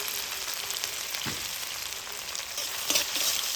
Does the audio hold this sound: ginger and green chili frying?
yes